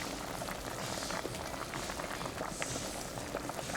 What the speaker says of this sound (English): Let it boil for maybe another 5 minutes.